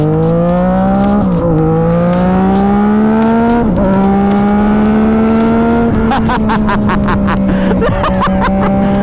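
A Yamaha MT-09 motorcycle engine revs hard while riding, its loud, close drone climbing in pitch through several gear shifts with brief dips between pulls.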